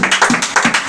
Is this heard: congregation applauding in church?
yes